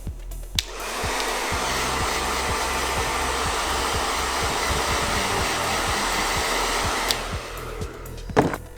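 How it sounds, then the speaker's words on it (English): A handheld blow dryer runs on hair during a styling tutorial, switching on with a click and holding a loud, steady whooshing roar for about six seconds before cutting off. "blow dryer."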